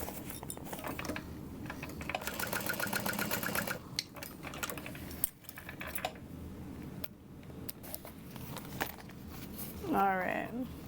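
A sewing machine stitches a 3-in-1 bubble bag in short runs, a close rapid mechanical whir that starts and stops, with soft handling clicks and a quiet voice in between.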